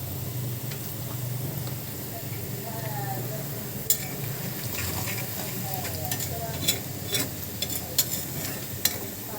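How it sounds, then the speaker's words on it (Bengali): Onion, garlic and chili fry in oil with a steady, close sizzle while a utensil stirs and scrapes the pan, adding occasional clinks. "দেখেন একদম পেঁয়াজ, রসুন, মরিচ ভাজা হয়ে গেছে"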